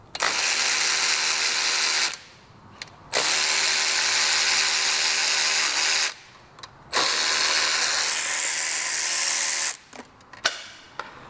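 Power ratchet with a 1/4-inch drive socket whirs loudly in three long bursts as belt cover fasteners come off a Vespa GTS 250/300 scooter, with brief pauses and clicks between runs.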